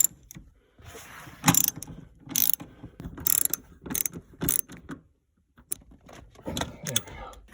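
Ratchet wrench tightening the seat bolts on a 2012 Toyota Prius V, heard as several short bursts of quick clicking close by, separated by brief pauses, with faint handling noise between them.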